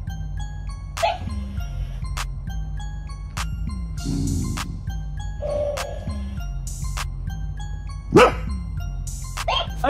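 A dog barks angrily at a toy, several short sharp barks scattered across the stretch, mixed with a repeating electronic toy tone and jingly chimes.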